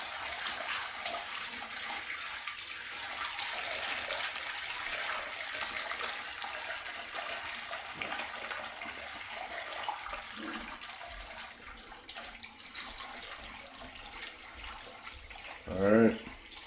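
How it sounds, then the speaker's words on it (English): Water poured into a shower stall for a flood test, a steady broadband wash of splashing and flowing water running throughout, with a brief louder gurgle near the end and a voice speaking faintly beneath. "And we've already got water in here. I'm going to put some more."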